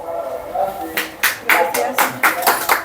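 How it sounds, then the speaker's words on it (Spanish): Scattered hand clapping at a community museum gathering in San Pedro y San Pablo Tequistepec, with a handful of sharp, uneven claps rising after a second of background talk and voices continuing beneath. "¡Fuerte el aplauso, fuerte el aplauso!"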